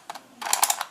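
Skewb puzzle face being turned clockwise, a quick plastic clatter of a few sharp clicks, close and crisp with no voices.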